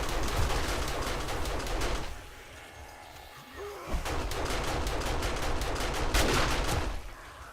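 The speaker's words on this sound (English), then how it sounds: "I just heard the shotgun turrets going on up above." Shotgun turrets fire in the survival video game 7 Days to Die at a snow base, sharp bursts of blasts in rapid clusters, with a quieter gap in the middle, then renewed volleys.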